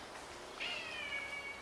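A domestic cat gives one drawn-out, fairly faint meow against a steady background hiss in a home setting.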